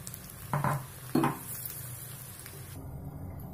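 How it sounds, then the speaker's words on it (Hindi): Potato and onion pakora batter drops into hot oil in a kadai, giving two brief bursts of sizzling over a quiet background of frying oil, close by. "इस पकौड़े के बैटर को लेके इस तरह से धीरे धीरे तेल में छोड़ देंगे।"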